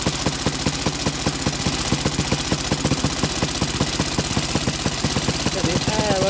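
A 1927 Sunbeam Model 6 motorcycle engine runs with an even, thumping beat of close firing pulses, steady throughout, with a voice briefly heard near the end.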